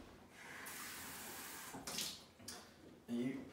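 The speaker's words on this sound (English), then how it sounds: "I'm just going to use cold water from the tap and see what happens." Cold water runs from a kitchen tap in a steady hiss, close by, broken by a few clinks and splashes, with a short burst of louder noise near the end.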